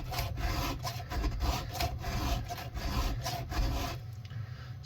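A hand file rasps a chainsaw chain's teeth, gouged and dulled from hitting rock, in repeated close scraping strokes with a steady rhythm and no talk.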